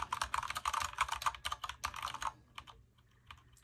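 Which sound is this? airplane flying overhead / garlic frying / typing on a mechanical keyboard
typing on a mechanical keyboard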